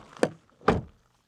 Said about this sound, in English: Then the door closing sound.